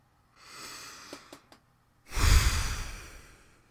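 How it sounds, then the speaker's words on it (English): Heavy, deep breathing in a Fortnite setting: a few soft sighing exhales and short sniffs, then one loud, rushing breath that swells and slowly fades, close and with no talking. "Breathing really hard."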